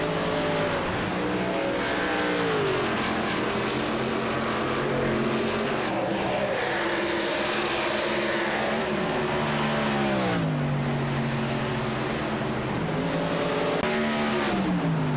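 Race cars roar around an oval track in a contender series event, engines whining and shifting pitch continuously as the pack passes, loud and sustained throughout.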